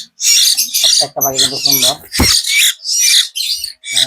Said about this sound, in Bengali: অরিজিনাল সিটাগান ময়না পাখি দেখেন